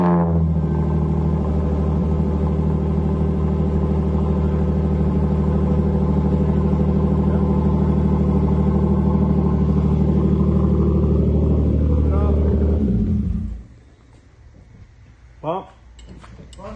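A Hyundai Genesis Coupe engine idles steadily and loudly up close for about thirteen seconds, then shuts off, leaving quiet with a brief clunk near the end.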